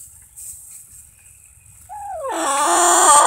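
A hen, a blue-egg-laying chicken on a small backyard micro farm, gives a rising, drawn-out vocal call near the end after quiet moments, growing louder with other flock noise.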